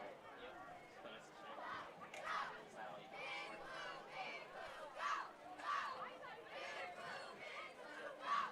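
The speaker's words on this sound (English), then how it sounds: "the CNS cheerleaders cheering on their team" High school football cheerleaders cheering on their team: a group of young voices chanting and shouting in rhythmic bursts, moderately distant with crowd chatter around them.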